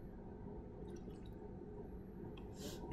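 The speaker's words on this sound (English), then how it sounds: "just put it into my burette at eye level and just fill this with the DI water" Deionized water poured through a funnel into a lab burette at eye level, soft drips and trickling fill sounds over a low steady background hum, with a brief brighter splash near the end, quiet and close.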